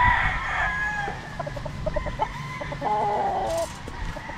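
A Sweater Gilmore gamefowl rooster crows on a game farm, a single drawn-out call heard up close, with clucking and other fowl noises around it.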